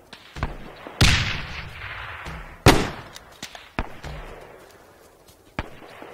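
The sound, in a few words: artillery rounds fired in ArmA 3 video game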